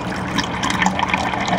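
Reverse osmosis water runs into a drinking vessel from a home RO system, a close, bubbling trickle and splash that fills steadily with small gurgling fluctuations and no voices.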